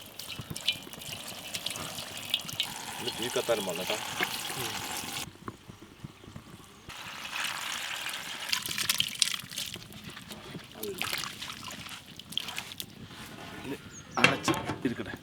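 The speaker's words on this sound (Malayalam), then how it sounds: "ഇനി നമ്മുടെ ചിക്കൻ വേവിച്ച വെള്ളം കട്ടണം." Chicken cooking stock for Palestinian chicken maqlooba is poured slowly into a pot over an open fire in a village kitchen, giving a soft uneven trickle with clinks and pauses while people talk.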